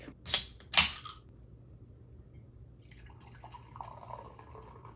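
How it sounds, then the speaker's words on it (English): Hard Mountain Dew Baja poured into a glass: two sharp clinks of the can and glass up front, a quiet pause, then a soft stream of liquid with light fizzing. "let's pour it out and see what it looks like"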